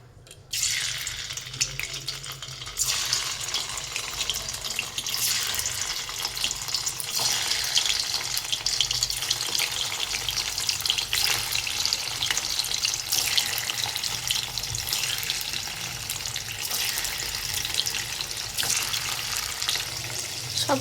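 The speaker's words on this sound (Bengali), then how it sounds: "তেলটা গরম হয়ে গেছে, এবার আমরা এক একটা পনির দিয়ে দেবো।" Paneer pieces fry in hot oil in a pan for a paneer masala, a steady loud crackling hiss that runs continuously with no talk.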